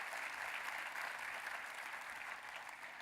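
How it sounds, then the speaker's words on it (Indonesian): Church congregation applauding, a steady wash of dense clapping that holds at an even level from start to end, with no talk over it. "Saudara, tepuk tangannya yang paling meriah buat Tuhan kita."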